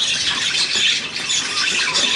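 A pet budgerigar squawks and chatters continuously at close range, shrill scratchy calls with no talking.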